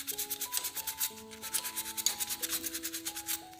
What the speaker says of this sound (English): a little bit of a sort of finishing sandpaper just to shape around that tulip